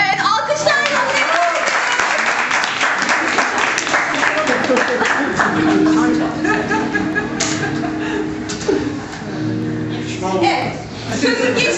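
Audience applause rises in a live Turkish stage show as a volunteer is called up, a dense clapping wash with chuckles, mixed under a host's amplified talking.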